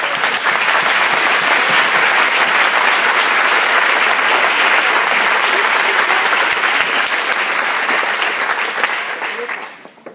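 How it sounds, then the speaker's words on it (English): Strong audience applause at an awards event, loud, dense clapping from a large crowd sustained for about nine seconds before quickly fading out at the end. "Let's give them a round of applause."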